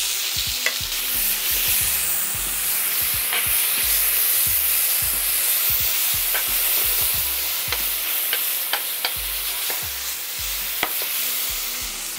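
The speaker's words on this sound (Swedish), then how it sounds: "tänk nu på då att inte steka för mycket fisk samtidigt i pannan" Fish fillets fry in a hot pan with a little cooking fat, a steady close sizzle running throughout, punctuated by repeated short scraping and stirring knocks with no talking.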